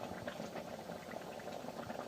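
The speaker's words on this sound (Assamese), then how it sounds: "তেলতে ভাজি থৈছোঁ।" Small fish frying in hot oil with onion and fresh green chilli, giving a steady, soft bubbling sizzle that carries on evenly throughout with no talking.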